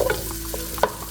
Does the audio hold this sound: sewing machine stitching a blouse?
no